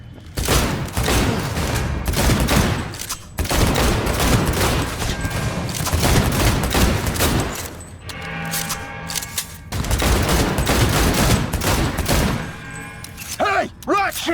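Gunfire in the Cyberpunk 2077 video game: loud, rapid bursts of automatic shots in several long volleys separated by short pauses, with a mechanical clack near the end.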